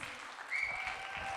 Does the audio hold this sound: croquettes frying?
no